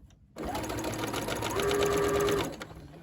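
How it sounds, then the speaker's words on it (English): Close by, a sewing machine runs a single steady burst, stay stitching a coat facing. Its motor hums with a rapid needle chatter for about two seconds, then stops. "So I'll start my stay stitching right there"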